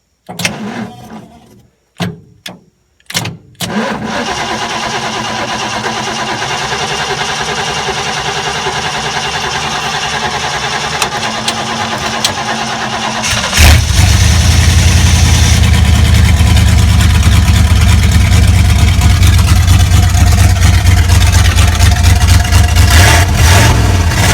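A big Ford 460 V8 engine, running with its exhaust cut off, starts with a few sputters, then idles with a loud, rough, open rumble that swells louder and deeper partway through as it revs.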